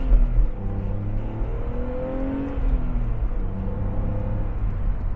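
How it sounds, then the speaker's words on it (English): A 2004 BMW Z4 2.5i with a manual gearbox accelerates, its engine note climbing in steady rising sweeps through the gears, heard from inside the car at moderate volume with no voices. "And now a little acceleration there up to the speed limit, around 45 on the main road"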